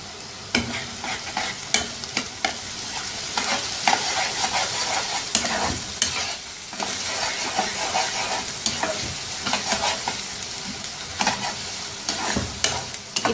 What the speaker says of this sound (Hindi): इतनी देर तक पकाएंगे इस प्याज को कि ये हल्का ब्राउन सा हो जाए।